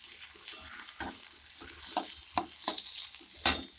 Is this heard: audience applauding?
no